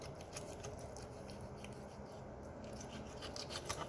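Raw chicken being cut for prep, a steady close scraping, snipping texture running continuously for several seconds with soft rubbing and patter, no talking.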